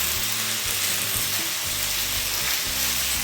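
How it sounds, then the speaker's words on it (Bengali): Malabar spinach and fish head sizzling and being stirred in a frying pan with chili powder, a steady loud frying hiss throughout with faint scraping of the stirring. "ভালো করে নাড়িয়ে দেবো।"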